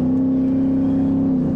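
A 2020 Ford F150 pickup with a loud aftermarket exhaust drones at a steady, deep, throaty pitch, close and loud, holding the note before easing off at the end.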